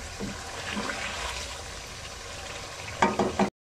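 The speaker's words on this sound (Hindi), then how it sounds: "ये तो अभी हम इसको तेज़ आंच पे फ्राई करेंगे अच्छे से" Chicken and masala fry in a karahi over high heat, a steady hiss of sizzling with scraping stirs, ending in a few sharp clattering strokes of a spoon against the pan.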